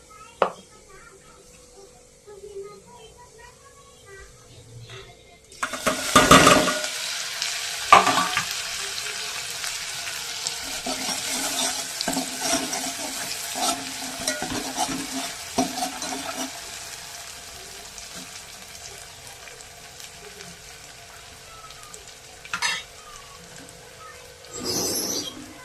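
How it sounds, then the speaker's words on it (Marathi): Grated coconut drops into hot oil for a spicy mutton dish and bursts into a loud sizzle after a quiet start, then fries steadily with stirring scrapes and a few clanks, fading slightly toward the end. "आता हे तेल गरम झाल्यानंतर आपल्याला ह्याच्यात टाकायच्यात खोबरे"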